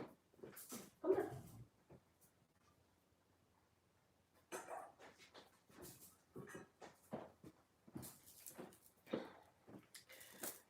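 A dog whimpers and yips indoors in bursts, with louder close whines and short barks in the latter half after a quieter stretch, and a person speaks briefly.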